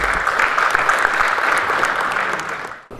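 Audience applause for the deputy mayor, Chaudhry Shafiq, at the Gull Law Chambers fourth anniversary event in 2014: steady, dense clapping from a sizable crowd that holds for about three seconds and cuts off abruptly.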